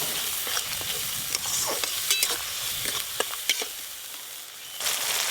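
Chopped tomato going into a pan of frying mustard-fish curry, a steady crackling sizzle with scattered sharp spatters and stirring clicks, close and loud, with no talking.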